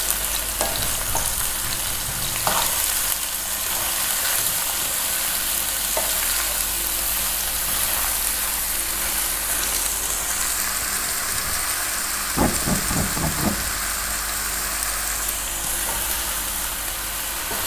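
Ridge gourd frying with onions in ghee crackles in a steady, close sizzle. A few louder scrapes and clatters of stirring break through, with no voices.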